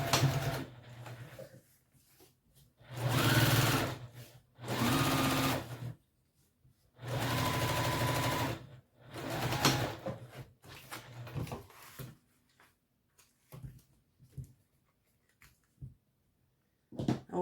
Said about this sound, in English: Top stitch.